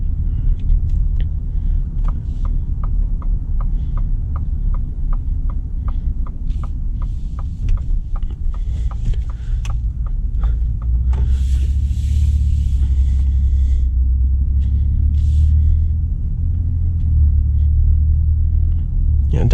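A Ford F-150 Lariat pickup with an extended wheelbase is driving on a road near the Jersey Shore, giving a loud, steady low rumble of engine and tire noise with faint rattles and thumps from the cabin throughout.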